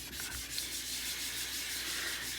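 A sharpening stone being flattened to raise slurry for honing a Kampfe Bros Star razor blade, heard as a continuous close gritty rubbing, steady and moderately quiet with no pauses.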